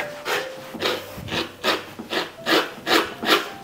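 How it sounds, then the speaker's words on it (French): A knife scrapes raw beef tripe clean in steady rhythmic strokes, about eight rasping passes at even pace, close and fairly loud with no talking. "Gratter à fond pour enlever la saleté."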